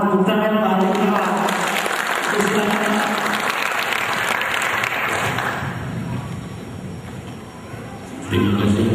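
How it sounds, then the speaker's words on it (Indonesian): Audience applause at a 2011 alumni gathering in Batam, loud and sustained for about eight seconds with dense clapping that eases slightly before a brief renewed burst at the end; no speech over it. "Tepuk tangan Pak Hadi Gunawan."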